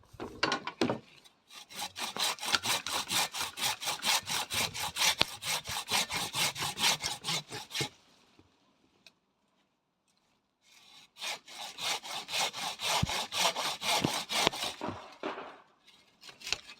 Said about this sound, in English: Holding the camera with one hand, sawing with the other.